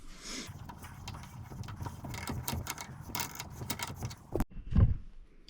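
A hose fitting is pushed and threaded onto a hose for a drift car, making quiet, close clicking, ratcheting and scraping sounds, ending in a few soft thumps.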